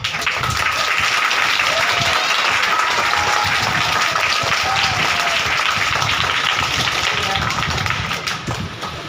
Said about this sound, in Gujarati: આપણે જોરદાર તાળીઓ પાડીશું